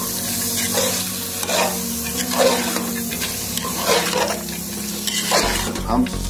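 Chana dal and turmeric roast in a pan, with a steady sizzle and rhythmic scraping strokes of a stirring spoon repeating about every second, followed by a low thump near the end.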